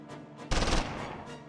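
A coaxial MG34 machine gun fires a short, loud rattling burst from a German half-track in the WWII strategy game Close Combat 3: The Russian Front, then fades into a lingering low rumble.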